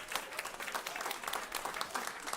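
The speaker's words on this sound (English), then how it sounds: "Please give him a round of applause." Audience applause greeting chef J.J. Johnson, founder of Field Trip, as he comes on at a regenerative agriculture event, a steady dense wash of clapping, evenly loud throughout.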